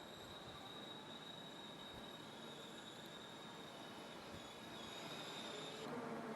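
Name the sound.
train at Purwokerto railway station, Central Java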